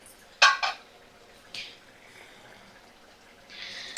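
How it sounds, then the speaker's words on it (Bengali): A metal lid lifted off a cooking pot of boiled pumpkin and Malabar spinach: a couple of clinking metal knocks, then a softer clatter, with quiet kitchen background and some faint rustling between. "দেখো ঢাকাটা আমি তুলে নিলাম"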